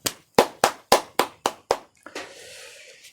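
A church congregation at a Wednesday worship service claps together in seven loud, sharp, evenly spaced beats, then a softer scattered patter and a hissing fade in the sanctuary.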